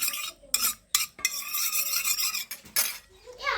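Biryani ingredients being stirred together with a little food colour, heard as close, uneven scraping and clinking of a spoon against a pot in short bursts separated by brief pauses.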